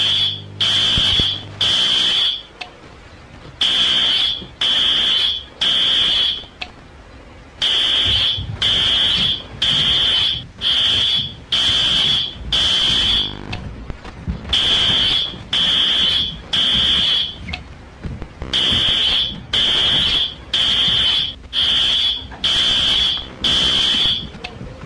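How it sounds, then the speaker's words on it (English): A loud fire alarm beeps in repeated bursts of three high-pitched tones, each group separated by a short pause, continuing steadily. "Here's an example of what should happen if you hear the fire alarm."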